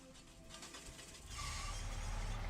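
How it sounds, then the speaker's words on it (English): A MacDon swather engine in Farming Simulator 25 cranks over with mechanical clatter, then catches and settles into a steady low rumble that stays loud and even through the end. "I do like that start, the engine sound on the startup"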